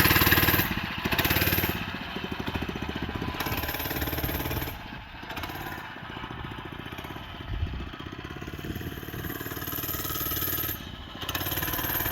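A restored, once-abandoned mini bike engine runs steadily through a test ride, a continuous mid-distance drone with shifting revs and a brief dip midway, no talk over it.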